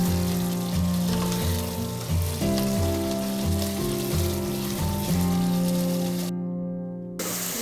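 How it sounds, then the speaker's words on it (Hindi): Masala spices fry in hot oil for a mixed vegetable sabzi, giving a continuous sizzle under steady melodic background music that cuts out briefly near the end. "ये देखिए हमारा मसाला कितने अच्छी तरीके से फ्राई हो चुका है।"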